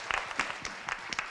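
Quiet, scattered clapping from a small university audience in a Korea University lecture session, a handful of separate claps spread over a second or so as a research professor is introduced.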